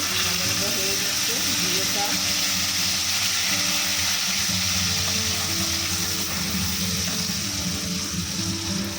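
Tomato paste fries with cumin in a pan, giving a steady, full hiss of sizzling that runs unbroken and fairly loud, with faint kitchen background tones beneath.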